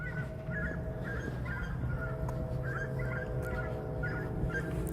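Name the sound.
dog barking at night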